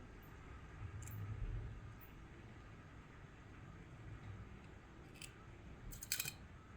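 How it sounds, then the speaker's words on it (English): The built-in line trimmer on a Hook-Eze tool cuts braided fishing line tag ends, giving a few faint, brief snips spaced apart over a quiet background. "So I'm gonna grab me inbuilt line trimmer that comes with your Hook-Eze"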